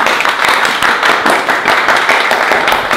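Dense, loud applause with steady clapping fills all three seconds without a break, the sound of a small group of friends cheering at a casual gathering.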